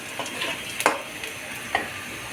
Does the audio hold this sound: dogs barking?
no